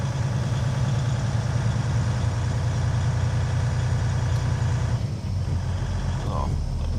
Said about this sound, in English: Oh, nice old Kenworth. Do a little drive-by here.